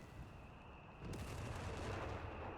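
Artillery barrage in Company of Heroes 3 striking a main base, a dense rumbling roll of distant booms and blasts that swells loudly after a quieter opening and keeps pounding steadily to the end.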